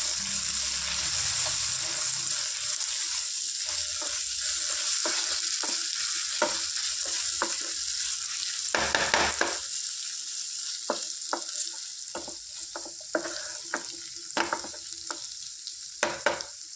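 Ginger paste and turmeric fry and get stirred in a pan for a potato tomato curry, a continuous loud sizzle with scraping spoon strokes and repeated clicks against the pan, no speech.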